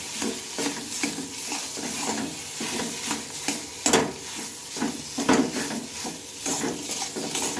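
Potatoes being stirred and mixed in a frying pan for an egg and potato dish, with steady sizzling and repeated scraping, clinking strokes of a utensil against the pan, close and fairly loud with no talking.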